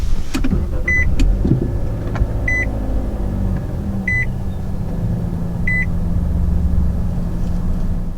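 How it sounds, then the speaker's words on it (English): A 2022 Nissan Sentra SR starts with a push button: a steady low engine rumble runs throughout, joined by a short dashboard chime that repeats evenly about four times. "Now to start out the Sentra, put your foot on the brake and press the button."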